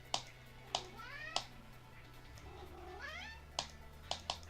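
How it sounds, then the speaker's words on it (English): A cat meows repeatedly with rising, drawn-out calls close to the microphone, mixed with a few sharp clicks over a steady low hum, no talking. "Oh, shut up, kitty."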